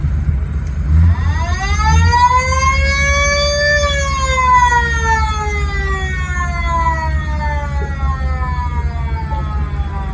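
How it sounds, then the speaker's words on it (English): A military vehicle's wailing siren sweeps up then slowly winds down, heard close over a loud, steady engine rumble at a regiment museum show. "doesn't this vehicle have a siren? Let's hear the siren."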